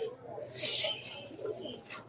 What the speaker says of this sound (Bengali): সাথে দেশি পায়রা আছে